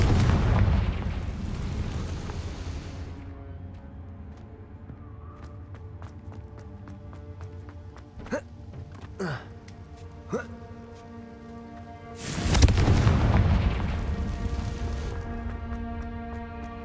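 Confringo fire spell explosions in the video game Hogwarts Legacy: a loud fiery blast fading out, several sharp crackling pops in between, then another big roaring explosion, with game sounds underneath.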